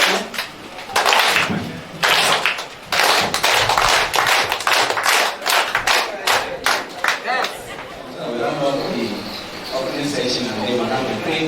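Workshop participants at a school forum clap on cue in a series of sharp, loud bursts, some isolated and some in quick rhythmic runs, then settle into chatter and murmuring voices.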